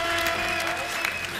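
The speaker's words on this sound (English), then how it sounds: "I'll clap for that" A short burst of dense applause from a small crowd at a Dota 2 esports match, steady and close throughout.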